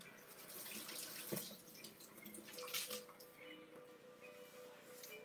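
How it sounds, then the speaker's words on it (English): A running tap at a sink with hands being washed beneath it, a steady wash of water with a few louder splashes and drips, fairly close and alone without talk. "I'm gonna wash my hands real quick"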